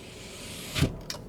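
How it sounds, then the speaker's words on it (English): A 2012 Chevrolet Suburban LT Texas Edition power window motor runs briefly, a short muffled whir from inside the cabin with a soft thump as the glass seats, heard alone against quiet interior hush. "Roll up the window."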